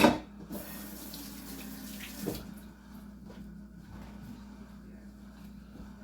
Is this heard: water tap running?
yes